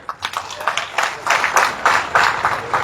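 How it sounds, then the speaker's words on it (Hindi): A crowd at a village event in Haryana, India, with the chief minister, clapping in loose, uneven bursts that grow steadier and louder, moderately close, with no talking over it. "जोरदार ताली बजा के दिखाओ"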